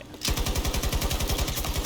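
Rapid automatic gunfire in a shooter video game, a loud, evenly spaced burst of shots that starts abruptly and keeps rattling without pause.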